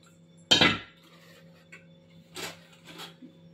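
Potatoes tipped into a cooking pot for spicy chili potatoes: one sharp clattering thud with a brief rattle, followed by a couple of faint scrapes and knocks in a quiet kitchen.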